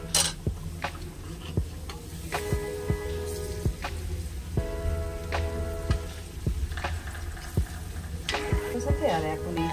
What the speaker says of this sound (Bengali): এবারে ভেজে নেব। তো তেল গরম হয়ে গেছে